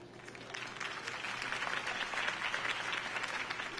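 Crowd applause in a video game after a campaign speech, a steady dense wash of clapping that holds at an even level for the whole stretch with no voices over it.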